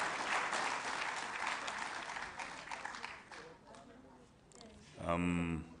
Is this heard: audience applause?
yes